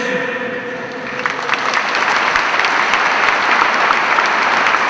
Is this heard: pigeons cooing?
no